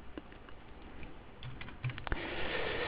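Keys tap on a computer keyboard while entries go into accounting software, a fast run of light, close clicks over a steady background hiss that grows slightly louder toward the end.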